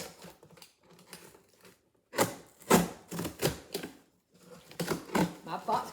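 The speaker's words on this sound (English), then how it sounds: "I'm going to cut all 4 of these flaps off here" A box cutter slices the flaps off a cardboard box in short rasping strokes, bursts of scratchy cutting separated by pauses, close by, with a voice speaking briefly among them.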